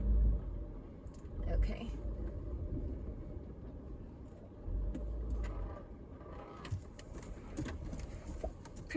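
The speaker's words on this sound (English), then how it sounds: "So I'm gonna back my car up to this area." A car backs up slowly in a park with oak and juniper woods, giving a low engine rumble with uneven surges. Faint birdsong sounds in the background, and a person briefly speaks.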